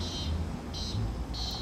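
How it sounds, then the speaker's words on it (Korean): Cicadas sing in midsummer, three repeating buzzy pulses rising over a steady low outdoor background at moderate distance. "매미가 많이 우네."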